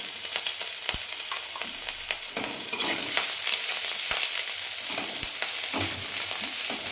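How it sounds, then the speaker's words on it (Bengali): Chopped green chillies and ginger frying in hot oil for a chilli mushroom dish, giving a steady, close sizzle broken by sharp clacks and scrapes of stirring. "ভালো করে ভেজে নিয়ে এবার এর মধ্যে দিয়ে দিচ্ছি অল্প পরিমাণ আদা কুচি।"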